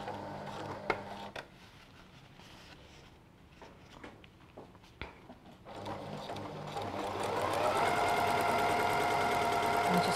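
A sewing machine stitches a concealed zip, starting after a few clicks and handling noises, then running steadily and loud with a fast even whir as a voice talks quietly beneath.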